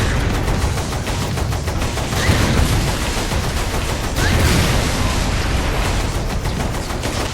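Heavy gunfire against tanks in the video game Saints Row IV, loud rapid shots blending into a continuous roar with booming impacts, sustained throughout.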